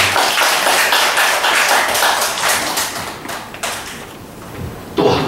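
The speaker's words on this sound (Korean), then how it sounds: "박수 한번 쳐주시기 바랍니다" A congregation at a Korean Wednesday worship service claps to welcome a pastor. The dense, busy patter of many hands runs steadily throughout and eases slightly near the end.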